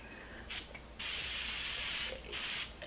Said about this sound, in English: I'm going to use a little bit of setting spray, and this is the one from Laura Mercier.